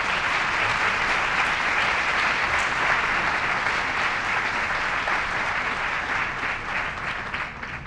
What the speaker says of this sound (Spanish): Un aplauso muy grande para él